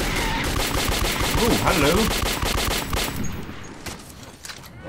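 Gunfire from shooting creatures in the video game Metro 2033, rapid automatic bursts that rattle loudly for about three seconds and then fade, with a voice talking briefly over the shots.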